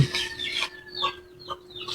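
Chickens cluck in short, choppy bursts close by, several calls overlapping against a faint steady hum.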